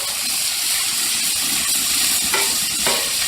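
Chopped bacon strips frying on a Blackstone griddle, a loud, dense, continuous sizzle and hiss close to the mic, with a couple of brief sharper spatters near the end.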